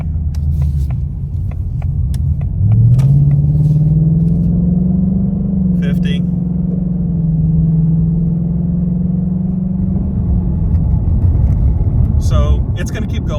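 A Ford Mustang GT with a ram air intake mod drones low and steady while driving, its pitch rising once as it turns, then holding an even rumble close up.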